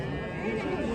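A sheep bleats at a livestock market in Jizzakh's Bakhmal district, a short, fairly faint call with crowd murmur and voices mixed in.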